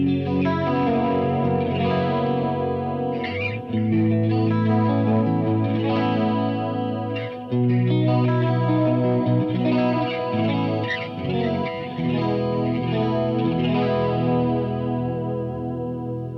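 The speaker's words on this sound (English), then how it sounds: "let's see what it sounds like when I dress it up with some chorus and delay" An electric guitar through an Engl Ironball 20 amp's clean channel, with a Julia chorus and a Flashback 2 delay, plays shimmering sustained chords with swirling modulation and trailing echoes, steady and close, no talking.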